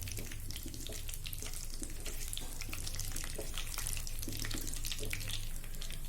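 Whole cloves, a cinnamon stick and black peppercorns fry in a pan for mutton kofta curry, giving a steady, hissing sizzle with scattered crackles and pops that runs continuously at moderate volume, with no voices.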